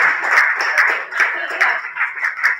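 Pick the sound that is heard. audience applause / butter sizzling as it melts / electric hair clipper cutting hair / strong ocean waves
audience applause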